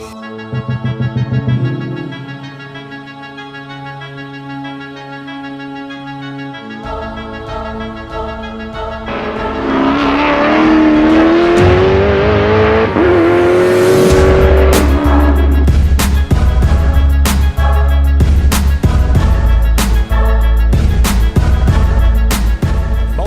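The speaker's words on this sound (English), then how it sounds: "The cars making their way round to the grid" Lamborghini Super Trofeo race cars at a circuit, engines droning and revving loudly and continuously, with rising pitch as cars accelerate and pass nearby, a dense, steady roar throughout.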